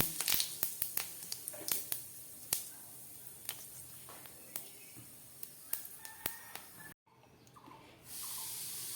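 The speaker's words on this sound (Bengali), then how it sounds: "এটার মধ্যে দিয়ে দিচ্ছি আমি একটু গোটা জিরে ফোড়ন" Whole cumin seeds crackle and pop in hot oil left from frying paneer, sharp scattered snaps over a soft hiss, fading before a brief gap and then a smoother, louder sizzle.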